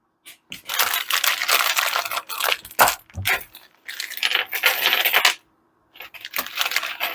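Small metal chains, hooks and screws for a Barrina 4 ft LED shop light clatter and jingle in bursts of handling, with brief pauses between.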